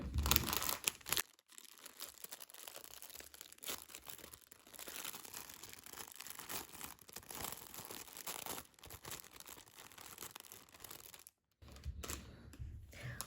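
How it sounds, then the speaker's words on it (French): Plastic packaging around embroidery thread skeins for a cross-stitch kit is opened, giving a steady close crinkling and rustling that runs almost the whole time, with a short drop to near silence near the end. "je baisse le son pour ouvrir le plastique"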